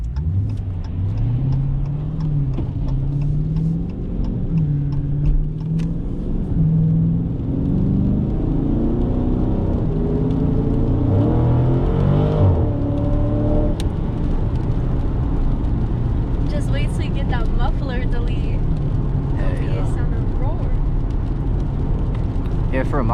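A 2018 392 car engine drives steadily through rain, its low rumble with rising and falling revs constant throughout, while people talk over it.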